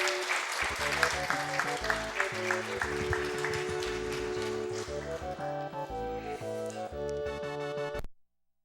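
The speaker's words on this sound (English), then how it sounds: "let's get a round of applause for Adam's Family." An audience applauds at a speedrun event for an Addams Family game run, clapping steady under music with piano-like notes, then cutting off abruptly near the end.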